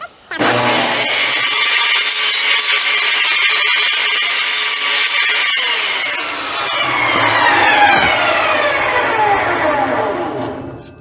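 Table saw cutting a wooden fence picket guided by a miter gauge, the blade spinning up loudly and screaming through the board steadily, then winding down to a fading whir, close and without speech.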